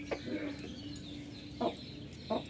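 A hen with her chicks in a village yard gives a few short, close clucks at intervals over quiet background noise.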